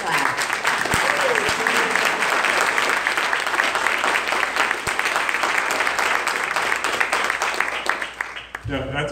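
An audience at a housing Q&A with a California state senator claps in a loud, sustained burst that stops abruptly near the end.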